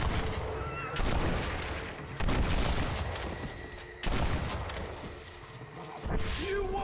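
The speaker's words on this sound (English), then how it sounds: "Why was I shooting so slowly?" Gunfire in the Western video game Red Dead Redemption: loud, sharp shots crack at roughly one-second intervals, each followed by a short decaying echo, with a steady din of game noise between them.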